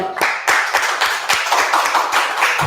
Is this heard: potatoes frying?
no